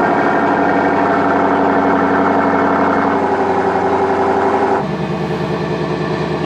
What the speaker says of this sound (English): Nice V8 rumble at idle.